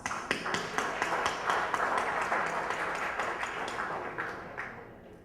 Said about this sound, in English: I think it is appropriate that I give all of you a round of applause.